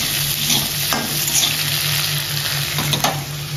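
Spices frying in oil for a potato and fish curry, a steady close sizzle with occasional stirring scrapes and clinks against the pan, no voices.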